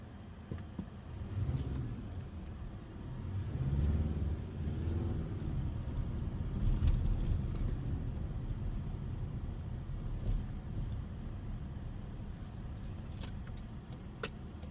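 A Toyota Tacoma pickup truck on a test drive, heard from inside the cab as a steady low engine and road rumble that swells slightly midway, with faint rattles and clicks on top.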